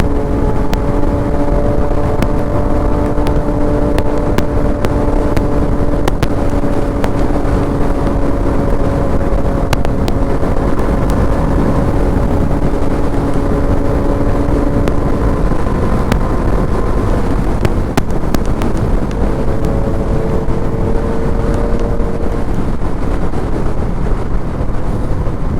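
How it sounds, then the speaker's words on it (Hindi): A loud Bajaj Dominar 400 motorcycle engine drones and rumbles steadily nearby, its exhaust note shifting in pitch as it revs, with no talking. "एकदम लाउड जा रही है, लाउड बाइक"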